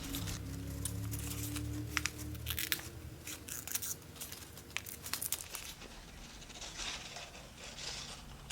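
Paper is folded into an origami snake, giving close, quiet crinkles, creases and rustles in irregular bursts over a faint background hum, with no speech.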